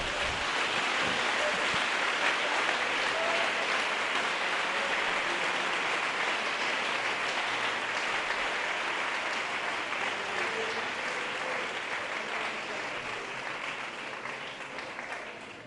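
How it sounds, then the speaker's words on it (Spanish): Congregation in a church service applauding the Lord, a dense sustained wash of clapping that holds steady for many seconds, then slowly thins and softens toward the end. "Dele un aplauso al Señor."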